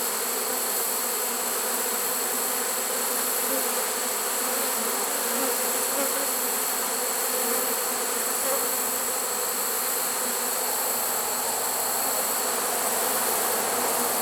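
Honeybees drone around a swarm trap in a dense, continuous, loud buzz that holds unchanged throughout, with no voices.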